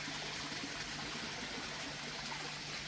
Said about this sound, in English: I got the water pumped right up to the top here and then it flows down here